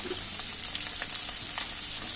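Pangas fish frying in a pan, a dense continuous sizzle with scattered sharp pops and crackles, close and steady throughout.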